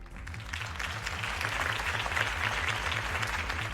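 Crowd applause from a campaign rally audience in the Batman Telltale Series video game, steady and sustained throughout, with a low rhythmic music bed pulsing underneath.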